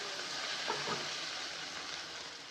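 Onion, ginger and garlic fry in oil in a pan, a steady close sizzle running unbroken with a brief swell of crackle near the middle and no voices.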